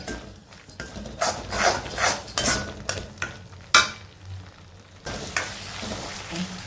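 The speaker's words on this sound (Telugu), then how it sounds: "కొంచెం ఒక్కసారి కారం వేగనిద్దాం. కారం ఒక్కసారి వేగాలి." Chili powder frying in oil with grated paneer, a close sizzle with repeated spoon scrapes and knocks that come in uneven bursts, then a short pause and a softer sizzle.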